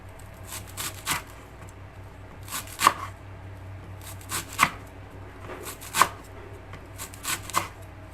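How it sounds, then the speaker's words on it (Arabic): A knife chops fresh dill and coriander on a board in short bursts of quick taps, close and fairly quiet, with pauses between runs. "الخضرة جميلة، نقطعها كده تقطيع صغنونة بالسكينة"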